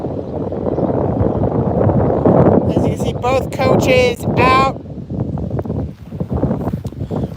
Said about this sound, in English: It is mighty windy here